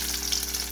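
Onion and bay leaves fry in a pan, the start of a homestyle spicy Rau fish curry, giving a steady, close sizzle with no talk.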